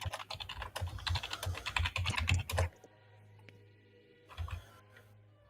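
Rapid computer keyboard typing, a dense run of close clicks and key taps that stops abruptly, then a quieter pause with a short second burst of keystrokes.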